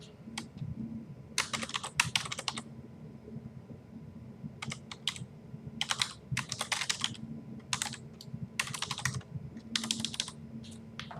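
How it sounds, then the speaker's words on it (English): A computer keyboard clatters as a file name is typed, coming in several quick bursts of keystrokes separated by short pauses. The typing is close and clear, with no talking over it. "type in the name and we save it"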